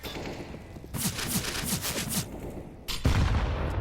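Counter-Strike match audio with scattered gunfire and a low rhythmic rumble, ending in a sudden loud grenade blast near the close, with a sharp spike and heavy low-end boom.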